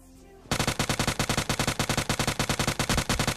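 Rapid automatic gunfire in the battle-royale game PUBG Lite, a loud, close burst of evenly spaced shots firing continuously after a short quiet lead-in.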